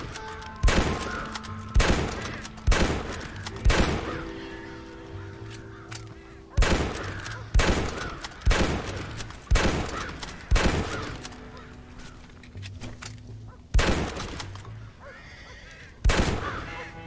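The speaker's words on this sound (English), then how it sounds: "Have I literally just gotta just keep shooting them?" Gunshots ring out in the Red Dead Redemption video game, about a dozen sharp, loud reports in irregular groups of two or three, with brief quieter gaps between them.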